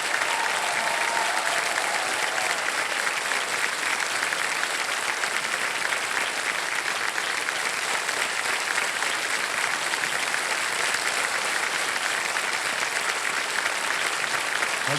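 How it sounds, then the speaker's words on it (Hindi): A studio audience on the Kaun Banega Crorepati quiz show applauds in a loud, dense, unbroken wave that holds steady for about fifteen seconds with no talking over it. "ताली बज जाए इनके लिए।"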